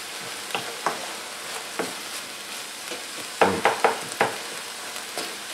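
Ground chicken fries in a pan, a quiet steady sizzle broken by repeated soft scraping and stirring clacks of a utensil, a cluster of sharper stirs coming midway, with no voices.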